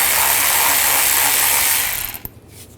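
A ratchet wrench with an 8mm socket backs a screw out of the inner fender well of a 2009-2010 BMW 535i xDrive, a loud steady rapid clicking that stops abruptly near the end, close by.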